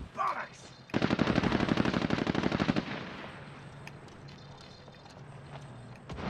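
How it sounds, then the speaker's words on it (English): Rapid automatic gunfire in a multiplayer video game, a fast dense burst of shots lasting about two seconds, loud and close, followed by quieter scattered game sounds and faint background noise. "Oh boy, getting shot."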